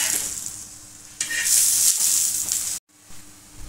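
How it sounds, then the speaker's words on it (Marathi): Mixed-vegetable thalipeeth flatbread roasts in a little oil on a pan, a bright crackling sizzle that swells midway, then cuts off briefly before a softer sizzle returns. "असं लालसर भाजून घ्यायचं, थोडस तेल टाकायचं"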